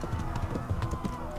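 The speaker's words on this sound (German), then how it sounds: "Und jetzt müssen wir schnell auf unser Pferd. Wir sitzen auf und wir müssen reiten, Leute." A horse galloping in the video game Kingdom Come: Deliverance, quick rhythmic hoofbeats thudding close under a low background hum, brief and continuous.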